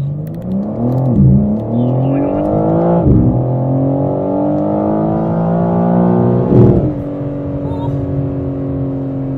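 A 2022 BMW M4 Competition xDrive accelerating at full throttle, its engine climbing loudly through rising revs with several sharp gear changes dipping the pitch before it pulls again, heard close from inside with no talk over it.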